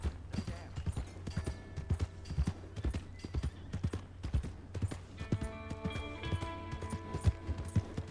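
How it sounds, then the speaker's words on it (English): A horse gallops in Red Dead Redemption II, rapid rhythmic hoofbeats close and loud throughout, with whinnying and game ambience rising near the end. "Remember to rest that horse sometime."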